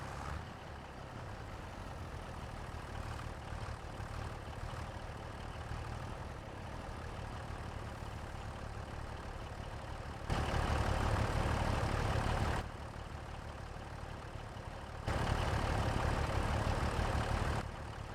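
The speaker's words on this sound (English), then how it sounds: "This tractor struggles a bit when climbing onto the trailer with this equipment." Heavy tractor engine in Farming Simulator 25 straining as it climbs onto a trailer with baler equipment, a steady low rumble that surges louder in two sustained bursts, close and continuous without talking.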